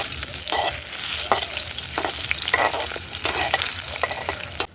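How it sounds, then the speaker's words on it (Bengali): Eggs frying in hot oil in a wok at a village cooking setup, a steady close crackling sizzle with occasional stirring scrapes, no voices. "এতে করে ডিমটা খুব সুন্দরভাবে ভাজা হবে"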